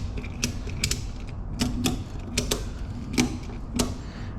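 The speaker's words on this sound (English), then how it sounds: "we're gonna use a ratchet strap just to keep slight tension on the cam gear for removal." A ratchet strap being tightened to hold slight tension on the cam gear of an SR20DET engine gives a series of sharp ratcheting clicks. They come in irregular pairs and singles over a low steady hum, close and clear.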